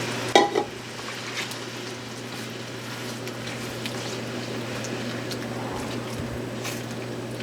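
Pickle juice and apple cider vinegar being stirred into bourbon bacon onion jam, heard as a low simmering sizzle with a sharp clink of a utensil at the start and faint scraping afterward.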